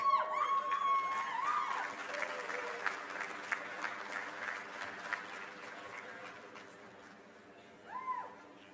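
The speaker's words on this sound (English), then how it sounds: "I appreciate the applause" A commencement ceremony crowd applauds steadily, then the clapping gradually fades. Faint voices come through near the end.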